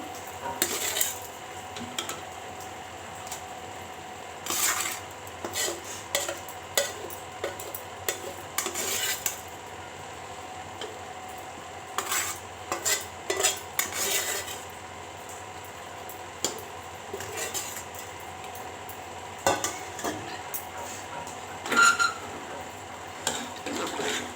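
Fried tempering being stirred into cooked dal in a pot for Andhra-style rasam, with repeated clinks and scrapes of a metal spoon against the pot in irregular bursts over a steady low hum, no talking.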